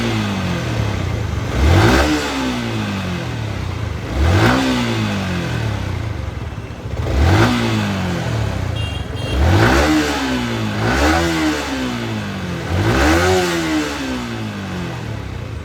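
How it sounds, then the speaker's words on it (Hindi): Yamaha R15M motorcycle engine running just after an engine oil change with Motul 7100, revved repeatedly in a steady rhythm of about six rising-and-falling throttle blips between idle stretches, loud and close. "1 मिनट तक थोड़ा सा बाइक को उसमें स्टार्ट में रहने देना"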